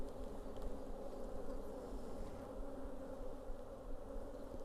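Honey bees buzz steadily at an open hive during an inspection, a dense, continuous hum of many wings close by, moderately loud and unbroken throughout.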